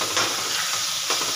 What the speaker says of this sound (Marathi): अद्रक जळायच्या आधी आपण ह्याच्यात कांदा ॲड करतो आहे.